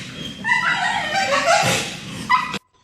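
A dog on a lead lunges forward while whining and yelping in high-pitched, strained cries, loud and close, lasting a couple of seconds before cutting off abruptly.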